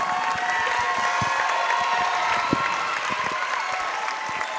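Dense, sustained applause and cheering from a packed crowd at a girls' basketball championship game, a steady roar of many hands clapping with scattered sharp claps and shouts standing out.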